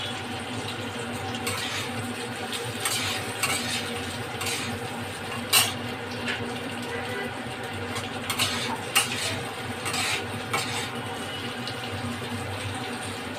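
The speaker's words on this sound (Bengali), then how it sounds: "পেঁয়াজটা একটু হালকা নেড়ে নেবো" Cubed onions being stirred in a pan: a steady sizzle throughout with occasional sharp scrapes and clinks of the spatula against the pan, close and fairly even.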